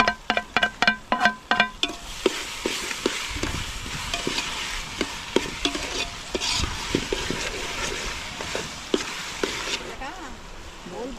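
Onion and tomato fry in a pan during outdoor cooking by the sea, opening with a quick run of sharp rhythmic knocks, then a moderate sizzle with repeated spatula scrapes and taps.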